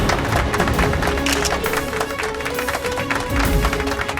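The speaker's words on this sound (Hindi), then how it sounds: "जोरदार तालियों से स्वागत कीजिए नेहा शर्मा जी का।" Studio audience applauds to welcome participant Neha Sharma on a Hindi TV episode, a dense, steady wash of many hands clapping that fills the space throughout at fairly close range.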